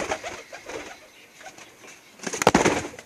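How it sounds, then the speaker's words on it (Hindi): Shirazi fancy pigeons coo softly in a breeding setup, low murmuring calls repeating over a few seconds, followed by a louder burst that may be wing flapping close by. "इसमें आपको फैंसी कबूतर भी नज़र आएंगे जिन्हें आप गुब्बारा कबूतर कहते हैं, शिराजी कबूतर कहते हैं।"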